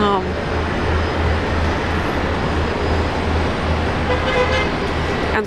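A car horn toots repeatedly amid constant loud traffic noise on a busy road, with a voice talking over the din.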